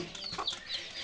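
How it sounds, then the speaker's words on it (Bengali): Chicks on a goat farm cluck as they crowd in for feed, giving a few short, thin chirping clucks close by over quiet background. "সব মুরগির বাচ্চা দেখেন এই যে চলে আসছে"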